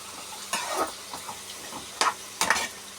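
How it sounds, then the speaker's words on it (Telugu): A spatula stirs a frying mixture seasoned with a pinch of turmeric in a hot pan for an egg and tomato dish. Sizzling runs underneath while several distinct scraping strokes rise up in short bursts. "పసుపు అవన్నీ వేసుకొని ఇలా గట్టితో కలియబెట్టాలి"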